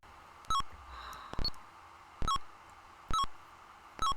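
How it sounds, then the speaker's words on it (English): Electronic beeps repeat in short, bright multi-tone bursts spaced roughly a second apart, clean and close over a faint background hum, with one longer sustained tone between them. "This amazing beeping"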